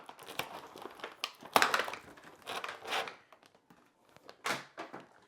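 Plastic packaging on a Saturn V rocket toy crinkles and rustles in irregular close bursts during unboxing, with a few louder crackles and soft thunks between quieter pauses.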